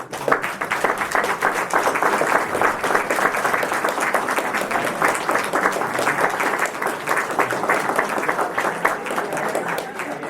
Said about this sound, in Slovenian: Tako da en aplavz.